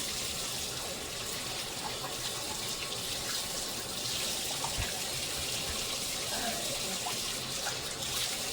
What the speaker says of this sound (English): I'm going to rinse this off and use to hold it down again.